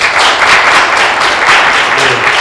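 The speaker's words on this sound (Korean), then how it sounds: "니콜라 피카토 선생님에게 다시 한번 큰 박수 부탁드리겠습니다" Sustained audience applause for French comics expert Nicolas Picato at the close of a talk at the 2022 Bucheon comics festival, a steady dense clapping that fills the whole moment without letup.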